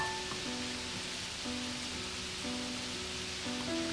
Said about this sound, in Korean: 하필 그날 비가 내리고 있었다